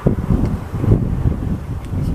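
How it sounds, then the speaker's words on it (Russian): Strong wind buffets the microphone in open countryside near a village, a low, rumbling roar with uneven gusts that swell and ease throughout. "Ой, ветер задувает вовсю."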